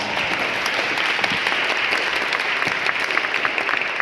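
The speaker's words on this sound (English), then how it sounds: "Give yourself another round of applause." Audience applause fills a town hall on the e-bike crisis held by the New York City E-Vehicle Safety Alliance at 263 West 86th Street; dense, steady clapping from a crowd sustained throughout.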